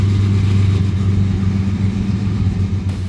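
A 1,000-horsepower all-aluminum factory car engine, first fire-up with an unfinished exhaust, idles with a deep, steady, throbbing rumble, loud and close, with no talking.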